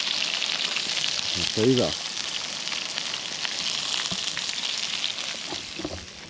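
Lamb chops frying on a camp stove outdoors, a steady sizzle and crackle throughout with a brief spoken remark over it.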